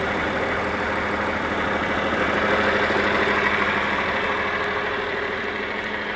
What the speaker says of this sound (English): I don't like to put any type of stress on a cold diesel